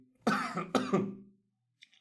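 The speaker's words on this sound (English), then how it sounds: "I swallow my spit and I cough" Two close, sharp coughs in quick succession after swallowing saliva, followed by a short pause and a faint rustle.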